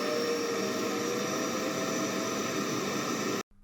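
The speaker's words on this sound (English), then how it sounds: "I remove the heating, turn on the vacuum, and pull the lever to bring the plastic down over the model." A vacuum forming machine roars steadily as it draws heat-softened clear plastic down over a dental model. The loud, even hiss runs without a break, then cuts off abruptly right at the end.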